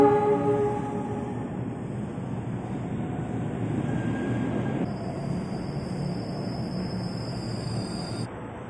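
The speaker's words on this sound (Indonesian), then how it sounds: "Wah, ada lokomotif spesial lebaran nih." A locomotive rumbles past nearby on track 7 at Jatinegara station with a steady rolling roar, harmonic horn tones sounding at the start and a high whine joining midway.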